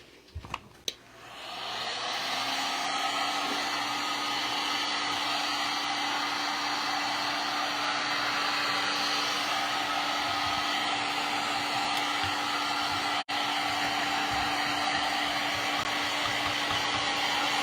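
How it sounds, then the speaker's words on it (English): Heat gun blowing hot air to dry freshly applied DIY paint on a thrift store chair being upcycled farmhouse style; a steady, loud whooshing roar that starts after a brief click and runs continuously, with a momentary dip near the end. "then I'm going to dry it with the heat gun"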